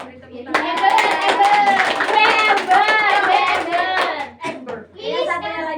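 A classroom of pupils claps together during a science microteaching lesson, a burst of rhythmic hand clapping with young voices chanting along throughout, dipping briefly near the end before resuming.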